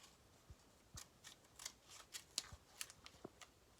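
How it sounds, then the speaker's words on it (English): Scissors make a series of small, quiet snips while cutting a strip of Hypafix adhesive tape, the irregular clicks coming close and soft against low background hiss. "So I'm going to cut my strip of anchoring Hypafix."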